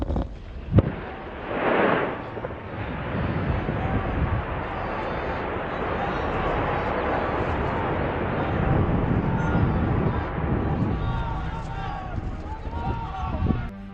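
A tunnel bomb detonates under the Sahaba checkpoint in Wadi al-Dif, packed at the end of a 300-meter dug tunnel: a sharp blast followed by a long, loud, rumbling roar of debris, with voices rising near the end.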